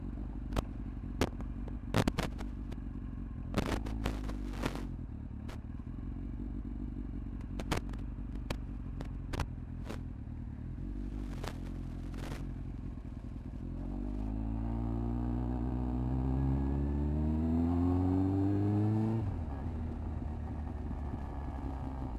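Kawasaki ZX9R motorcycle engine while riding, a steady hum with scattered clicks and knocks, then revs rising strongly to a louder, climbing whine before easing off.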